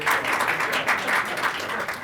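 An audience at a community presentation applauds in a steady, dense wash of clapping that carries through the full two seconds at moderate volume, with no voices over it.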